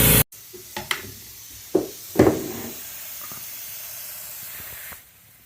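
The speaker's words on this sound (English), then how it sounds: "we're gonna air this thing up and bead the wheel" Compressed air hisses in short bursts while a motorcycle tire with no valve stem, leaking at the bead, is inflated to seat the bead. Soft knocks and clicks mark each burst, followed by a quieter fading hiss.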